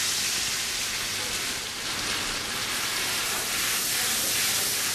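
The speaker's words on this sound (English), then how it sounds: "Atashi melts the butter in a pan and adds the grated potato" Grated potato for rösti frying in melted butter in a pan, a steady, dense sizzle and hiss that holds at an even level throughout, with no talking.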